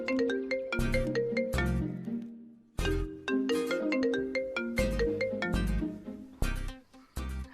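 A phone's melodic ringtone plays while a call is placed, a bright repeating chime pattern with a short gap midway, loud and alone.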